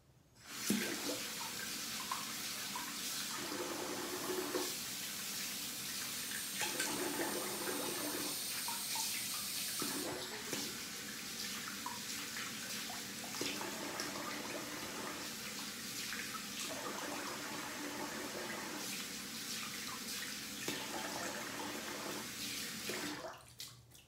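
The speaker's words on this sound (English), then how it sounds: "Got the cold water on there." Cold water runs from a tap during a post-shave rinse with a double-edge razor, a continuous splashing flow that swells and dips in patches as hands move through it, fairly quiet and with no talking.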